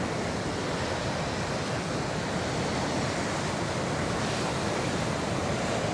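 Ocean surf at a surf spot near Cabo during a morning surf contest session, with steady broadband wave wash and wind rumble that stays loud and continuous, no voices.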